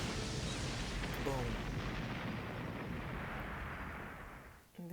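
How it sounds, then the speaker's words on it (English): A loud, sustained explosion rumbles in a video game, with a deep roar that holds for several seconds and then fades out. "I covered my ears because of the sudden explosion."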